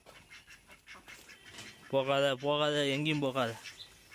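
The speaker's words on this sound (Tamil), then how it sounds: "கரெக்டாக நம்ம வாத்துக்கூட்டம் வருது" Ducks quack in a loud, nasal burst through the second half, close by, after a stretch of quiet rustling with a person speaking briefly.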